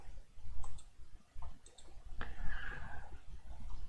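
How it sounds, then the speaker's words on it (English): A computer mouse clicks repeatedly while drawing in AutoCAD, giving several sharp, close clicks at irregular intervals over a low, steady background. "I forgot to stop clicking"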